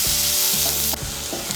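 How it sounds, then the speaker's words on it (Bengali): Chopped large onion frying in a pan until red, a loud steady sizzle broken by a few scraping stirs. "এই দেখুন পেঁয়াজ কুচিটাকে আমি লাল করে ভেজে নিয়েছি"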